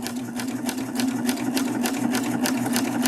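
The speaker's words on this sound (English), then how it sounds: "And then just sew over it." A serger sews quilt binding with a fast, steady mechanical whir and a rapid rhythmic ticking of the needle, close and continuous throughout.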